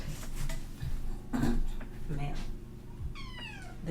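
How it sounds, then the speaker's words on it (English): A cat meows several times in short, close cries while scratching at a door, with faint scraping and household rustle between calls and no talk over it. "I gotta tap this cat so she'll stop scratching at my damn door."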